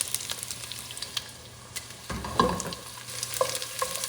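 Garlic and chorizo fry in a pan for Sopa Castellana, a Spanish garlic soup, with a continuous close sizzle and scraping stirs that grow louder partway through.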